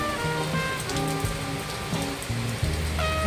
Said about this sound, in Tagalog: Umuulan po dito